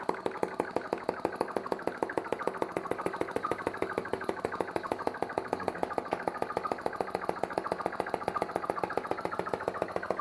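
Small vacuum (atmospheric) engine running cold: a steady, fast, even chuff-and-click cycle repeating about seven or eight times a second, close and continuous with no pauses.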